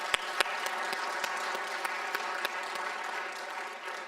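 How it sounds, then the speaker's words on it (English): Sustained audience applause for a panel at a design-for-usability and user-experience session: dense, steady clapping from a full room with a few sharper individual claps standing out, and no talking over it. "I'd like to give a huge round of applause to the panel."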